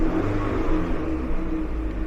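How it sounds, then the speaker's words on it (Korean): A Chevrolet Malibu 2.0 GDI turbo converted to run on LPG idles with a steady low engine hum and mild rumble, close and unbroken, without a sharp rev. "엔진이 웜업이 됐다고 가정을 하고 악셀에다 한번 밟아 볼게요"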